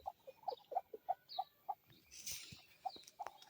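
A white hen in a garden, climbing a peach tree, gives a run of short, clear clucks in a broken rhythm, close and fairly quiet, with a brief rustle partway through.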